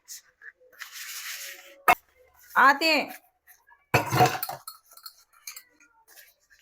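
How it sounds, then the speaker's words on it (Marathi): Dishes scrubbed by hand in a home kitchen make scattered clinks, knocks and scraping bursts separated by quiet gaps, with someone speaking briefly between them. "पटपट एवढी भांडी घासून घेते."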